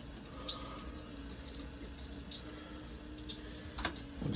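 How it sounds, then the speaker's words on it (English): Water draining from an RV shower during winterizing of an LTV Unity motorhome, a steady low rushing trickle with faint drips and ticks throughout, no talking. "Let's start really trying to get the shower to get drained out."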